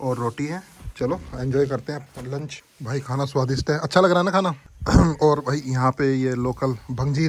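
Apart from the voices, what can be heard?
No everyday noises stand out.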